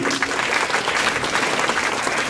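Loud, dense applause from an audience at a Gandhi Jayanti quiz competition in Jhothda, a brief burst of steady clapping with no voices over it.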